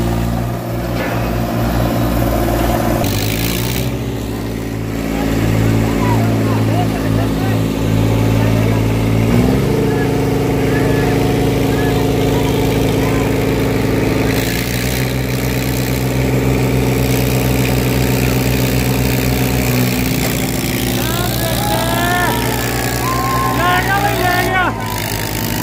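A Swaraj 742 XT and a New Holland tractor run together, their diesel engines droning loud and close with steady low harmonics, shifting pitch and revving at moments while people talk over them.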